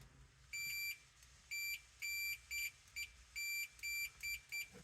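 Multimeter continuity tester beeping while probing wiring on a 1951 GMC 100 truck: a series of high, thin electronic tones, some short and some about half a second long, irregular and fairly faint.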